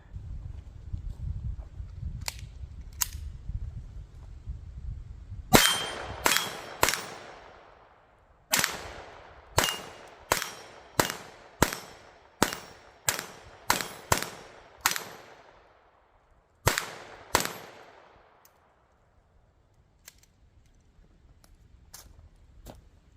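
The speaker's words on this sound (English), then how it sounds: "this is actually the first time really firing a pistol with a red dot sight" A .22 pistol with a red dot sight fires at targets outdoors: a couple of distant shots, then a rapid string of sharp, loud cracks with short gaps, trailing off into scattered faint pops.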